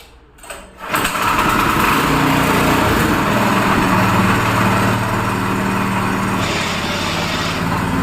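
A 7 hp Fortune gear-driven power weeder engine starts after a brief quiet moment and then runs at a steady, loud, buzzing clatter close by, with no speech over it.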